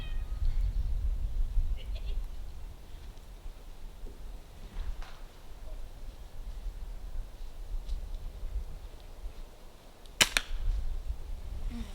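A Daisy BB gun fires during backyard target practice with children. A single sharp, close pop stands out near the end, over faint ambient noise and low background sound.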